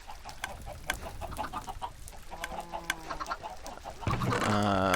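Chickens cluck in a Minecraft world, several short blocky clucks repeating near and clear, with a brief game tone near the end.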